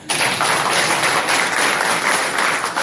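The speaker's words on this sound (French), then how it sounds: "applaudissons pour le Seigneur" A church congregation claps together in sustained, dense applause that starts abruptly and holds steady at full strength throughout, loud and close with no talk over it.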